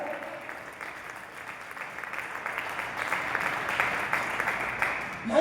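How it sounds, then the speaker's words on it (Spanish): Steady applause from a church audience during a sermon in Celaya, Mexico, with a broad, even wash of clapping that holds and swells slightly toward the end. "¿Cuántos aplauden esa palabra?"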